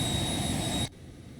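Phenom 300 twin jet engines climbing at max continuous thrust in the X-Plane 12 flight simulator: a loud, steady broadband roar with a high whine that cuts off abruptly partway through, leaving quiet hiss.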